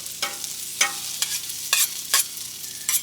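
Potatoes frying in leftover bacon grease on a griddle outdoors, a steady soft sizzle broken by about six sharp scrapes of a spatula, close by, with no talk.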